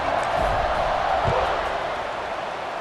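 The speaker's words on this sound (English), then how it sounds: "this crowd is buzzing after that last score" Stadium crowd noise from the video game EA Sports College Football 26, UCLA vs. Indiana, a steady broad roar of buzzing fans after a touchdown, loud and continuous with brief thumps early on.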